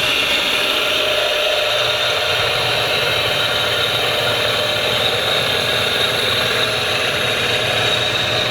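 MG overdrive unit spun up on a test rig, a loud, steady mechanical whine and drone with a low rumbling vibration underneath, continuous and close with no talking.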